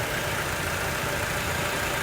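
A Toyota Crown ex-taxi's inline-four 3.0-litre diesel engine idles with the hood open, a steady, loud, even rumble close by with no talk over it.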